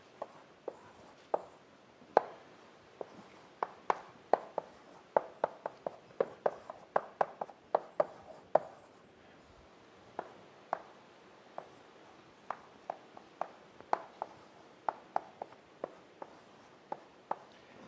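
Chalk tapping and scraping across a lecture board as a tree diagram is drawn, a steady run of sharp, close ticks and short strokes with brief pauses, no voices.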